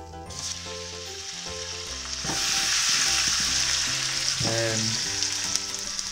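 Steak sizzles in a little olive oil on a flat top pan over medium heat, a loud continuous hiss that swells and brightens partway through, with background music playing throughout.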